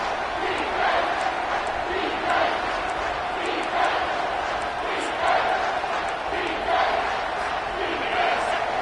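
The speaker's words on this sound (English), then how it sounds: "3rd down, and this crowd is bringing down the house" A stadium crowd roars continuously in the NCAA 25 college football video game ahead of a third-down play. The dense cheering swells and surges in waves without a break.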